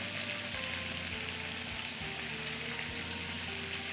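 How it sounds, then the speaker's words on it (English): Red onions saute in a pan, giving a steady, dense sizzle with a few soft stirring knocks, close and even in level throughout, with no talking over it. "So there is our red onions, and Joyce, if you just want to stir those around for us, and we'll just saute that now for about 3 to 4 minutes"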